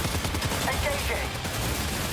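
Rapid, dense gunfire rattles continuously in the video game Death Stranding 2 during a boss fight, a busy burst of overlapping shots with faint voices mixed in.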